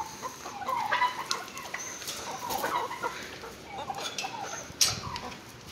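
Chickens clucking and calling in a busy flock, a steady mix of clucks and squawks with one sharper cry near the end.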